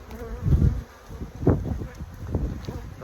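Honey bees buzz around an opened hive during an inspection, a low droning hum that swells and fades in waves, close to the ear with faint rustling and no clear speech.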